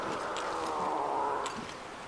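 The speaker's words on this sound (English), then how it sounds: "Those some very loud meows." A cougar in the video game The Long Dark letting out a drawn, wavering cat-like yowl, heard faintly and continuously for a couple of seconds against a soft background hiss.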